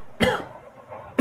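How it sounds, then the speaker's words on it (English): Two close, harsh coughs about a second apart, the second one cut short. "Seriously, are you coughing?"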